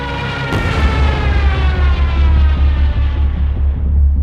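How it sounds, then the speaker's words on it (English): Heavy, continuous booming rumble of Luftwaffe bombs exploding around troops in World War II, with a sharp blast near the start and dense low roaring that persists throughout, loud and close. "As the Luftwaffe bombs the troops"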